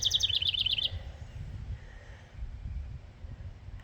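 A bird in a Missouri yard gives a quick series of bright, repeated chirps up close in the first second, then falls silent, leaving only a low rumble of outdoor background.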